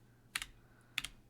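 Two short bursts of keystrokes on a computer keyboard while writing web page code, each a quick double clatter of keys, close and fairly quiet, separated by a brief pause with no talking.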